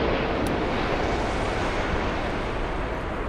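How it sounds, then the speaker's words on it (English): An Emirates Airbus A380 airliner inbound from Dubai at Frankfurt Airport makes a broad, continuous jet roar, moderately loud and sustained without pause. "That was a really cool shot with the plane spotters. Everyone in awe of the Airbus A380."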